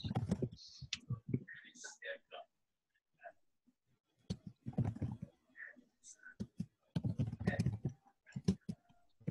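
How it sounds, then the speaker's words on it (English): Quick keyboard clicks from someone typing on a computer, faint and intermittent beneath a person talking. "typing away"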